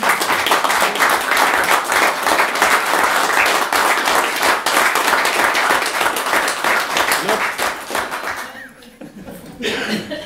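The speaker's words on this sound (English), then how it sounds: "Can we give Roger a big round of applause?" A crowd at an afternoon talk gives Roger Mullin a big round of applause, dense sustained clapping with a few chuckles mixed in, tapering off near the end before a voice returns.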